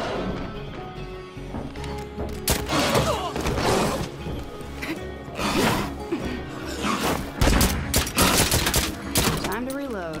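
Gunfire from a weak gun in State of Decay 2, a zombie survival video game: repeated loud, sharp shot bursts in rapid clusters over a busy game mix, with someone talking at times.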